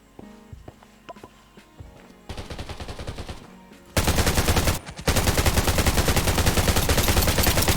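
Automatic gunfire hits the player in the survival shooter Undawn, starting as lighter scattered shots and footsteps, then erupting into loud, sustained rapid-fire bursts with a brief break.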